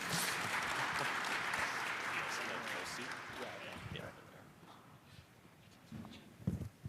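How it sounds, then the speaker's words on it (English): An audience at a Bitcoin conference applauds as panelists come on stage, a dense burst of clapping that fades over several seconds, leaving scattered claps, footsteps and voices. "let's give a round of applause for Mike and Roger joining me on stage right now"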